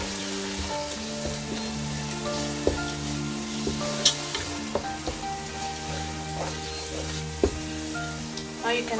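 Kashmiri red chilies sizzle and fry steadily in a pan for beef biryani, with a spoon stirring and scraping in occasional sharp clicks against the metal, close and continuous.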